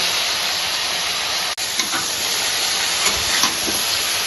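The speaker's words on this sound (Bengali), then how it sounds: "এবার সবজিটা একটু ভালো করে ভেজে নেব" Vegetables frying in a pan with salt and turmeric for a prawn dish, a loud, steady, close sizzle that holds evenly throughout with only slight variation.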